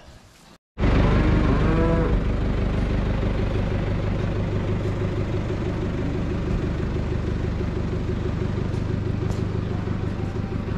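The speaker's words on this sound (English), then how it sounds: "The cows that have been weaned." A loud, long moo from weaned cattle fills the air after a brief pause, with a low rumble beneath it and more lowing from the herd close by.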